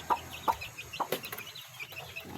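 Young pet chickens clucking nearby, several short soft clucks spaced about half a second apart over quiet background.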